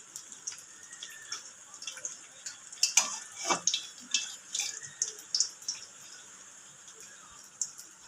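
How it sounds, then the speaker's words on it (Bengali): Semolina and gram flour pithas frying in hot oil over medium-high heat, with scattered close pops and crackles over a steady low sizzle, the spattering growing busier midway. "মিডিয়াম টু হাই হিটে ভেজে নেব।"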